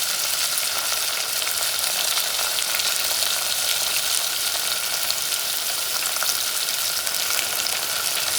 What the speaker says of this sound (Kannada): ಸ್ವಲ್ಪ ನೀರುಳ್ಳಿ, ಆಮೇಲೆ ಮಿರ್ಚಿ ಎಲ್ಲ ಹಾಕ್ಬಿಟ್ಟು ಮಿಕ್ಸ್ ಮಾಡಬೇಕು.